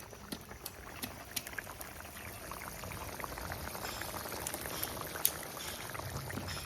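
Water poured into a simmering fish and cauliflower curry in a pot, a faint continuous liquid trickle and bubbling heard close, with no talk.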